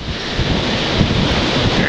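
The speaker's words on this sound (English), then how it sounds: "Now, pretty rainy. Pretty windy." Roaring wind and rain from Hurricane Sandy at night, a dense continuous rush buffeting the microphone, loud and unbroken with no speech.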